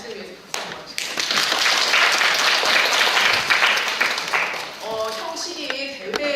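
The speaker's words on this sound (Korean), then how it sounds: "이 자신을 위해서 박수 한번 치겠습니다." Applause from the audience at the close of a national university student reading and debate contest final, a steady crowd clapping that runs for about four seconds, then thins out as a voice speaks near the end.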